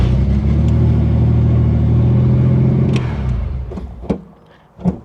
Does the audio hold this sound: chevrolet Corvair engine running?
yes